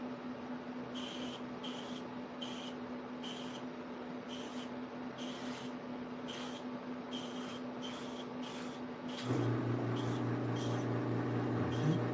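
Short bursts of an airbrush hissing while spraying paint skin tones, in a repeated on-off rhythm over a steady mechanical hum, which deepens near the end.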